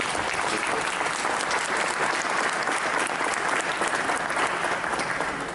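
An audience at an awards ceremony applauds for Guillermo González, a magazine editor, with loud, continuous clapping from a large crowd filling the whole stretch.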